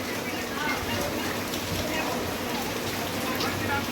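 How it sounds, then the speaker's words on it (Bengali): Heavy rain falls steadily outside, a dense, even hiss of drops on surfaces that holds at a constant level throughout without breaks. "কত বৃষ্টি হচ্ছে দেখো"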